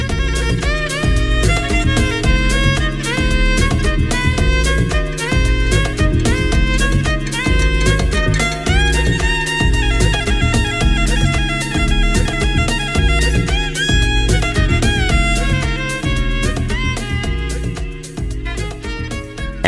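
A mastered Amapiano track plays alone, loud and dense throughout, with driving low percussion and bass beneath busy chords and hi-hats, easing slightly in the final seconds.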